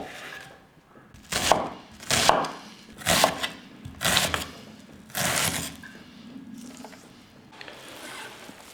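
An onion is diced on a board for fish cutlets, with a series of distinct, close knife chops landing in an uneven rhythm and short pauses between them.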